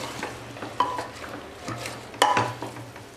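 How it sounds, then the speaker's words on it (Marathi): Mixed vegetables with fresh coriander stir-fry in a pan for Bhogi mixed bhaji, a soft sizzle under repeated scraping strokes and a couple of bright metallic spatula clinks against the pan. "1-2 मिनिटांसाठी आपण हे छान परतवून घेणार आहोत।"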